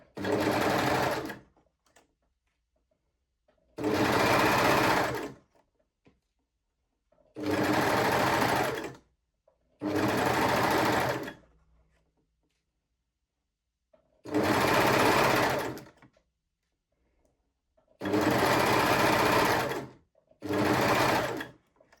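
Sewing machine stitching elastic onto a bikini bottom, seven loud bursts of rapid stitching lasting a second or two each, separated by quiet pauses.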